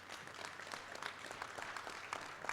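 Audience applause at a political assembly in the Tlalpan borough, a brief, fairly faint burst of many hands clapping continuously.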